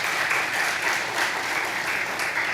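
A congregation at a Wednesday service in a Korean church in Southern California claps in steady, dense applause to welcome visiting missionaries. The clapping is sustained and fairly loud for the whole stretch.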